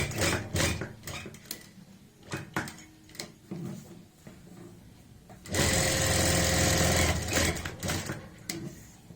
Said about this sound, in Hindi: अब हम इस पॉइंट से ही यहाँ पे दूसरी साइड की भी सिलाई लगाएंगे